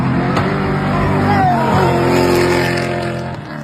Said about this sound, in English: showing you what a proper one-handed drift looks like at Apple Valley while someone's chasing you